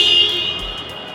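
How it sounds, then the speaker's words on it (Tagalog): A 2024 Toyota Hilux GR-S 2.8L 4x4 pickup sounds its horn, a single short steady honk heard up close and alone. "pakinggan naman natin yung horn ng isang Toyota Hilux GRS."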